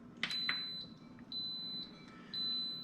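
A slow cooker's start button gives two soft clicks followed by three short, steady high-pitched beeps spaced about half a second apart, moderately loud in a quiet kitchen.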